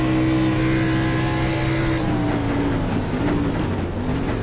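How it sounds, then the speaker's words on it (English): A race car in the iRacing sim, The Glen, braking hard with the rear tires hopping: a loud, steady engine drone whose pitch drops and wavers with uneven chatter, close and continuous, no talk. "You can hear the car skipping around a little bit"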